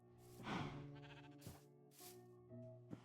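Sheep in the video game Minecraft bleat several times in quick succession, wavering calls heard clearly and alone at a soft level.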